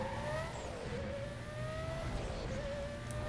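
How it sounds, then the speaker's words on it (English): A car engine roars in the Need for Speed Most Wanted video game, a continuous loud revving drone that rises and falls with gear shifts, with no speech over it. "Can't stand the engine noise."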